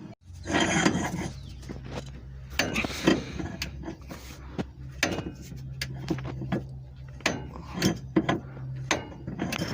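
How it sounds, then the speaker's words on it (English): Wrench work on a car's control arm bolts during a panhard bar and control arm install, with repeated metallic clinks and ratcheting clicks in irregular bursts, close and moderately loud, with no talk. "all the bolts are loosened up on it"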